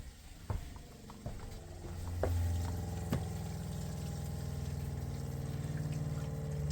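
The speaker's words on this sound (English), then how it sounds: "turn on water pump, and it's priming right now." A steady low mechanical hum of an RV water pump priming the lines, with a few clicks and knocks early on, continuous and moderately loud.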